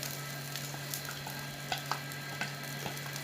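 Liquid paratha batter sizzles steadily on a hot tawa, a continuous near frying hiss with a few faint spoon scrapes and clicks.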